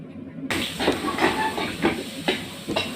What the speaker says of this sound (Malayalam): ഇനിയിപ്പോൾ നമുക്ക് അരപ്പ് ചേർത്ത് കൊടുക്കാം അരപ്പ് ചേർത്ത് ഇളക്കി